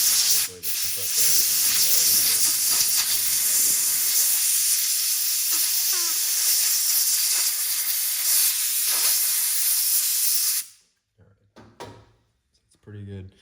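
An air compressor hisses loudly and steadily during the button finishing of a Microtech Ultratech ZBP tritium knife, running for about ten seconds before cutting off, then followed by a few faint clatters.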